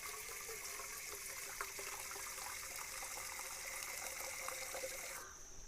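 Water pours steadily into a bottle on a forest water walk, a continuous bright gushing splash with a rising tone as the bottle fills, running for about five seconds before it abruptly stops.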